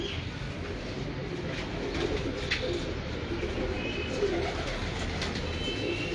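Pigeons coo softly and steadily at a rooftop loft holding old high-flyer pigeons, a low continuous murmur with faint bird calls over outdoor ambience.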